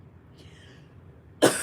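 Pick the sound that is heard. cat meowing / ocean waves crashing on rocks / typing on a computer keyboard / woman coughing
woman coughing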